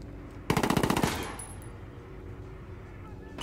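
A loud burst of automatic gunfire in the tactical shooter game Ghost Recon Wildlands, about a dozen rapid shots in half a second, then a quieter ambient tail and a faint ring.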